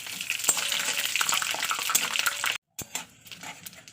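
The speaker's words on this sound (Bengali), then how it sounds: "গোটা জিরে দিয়ে দেব দিয়ে দেবো দুটো শুকনো লঙ্কা দিয়ে দেবো দুটো তেজপাতা এবার আমি এটাকে ভালো করে নাড়তে থাকবে" Whole cumin seeds, two dried red chillies and two bay leaves fry in hot oil while being stirred, a steady crackling sizzle with scraping clicks, broken by a brief silent gap near the middle.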